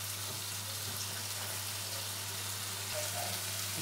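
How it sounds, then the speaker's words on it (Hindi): Onions frying in a pan with a little oil and spices: a continuous, even sizzle with a low steady hum underneath, fairly faint and unbroken. "फ्राई होने देते हैं।"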